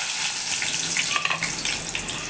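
Cumin seeds, mustard seeds and carrot frying in hot oil for tomato rice, a steady bright crackling sizzle with a few louder pops, close and continuous.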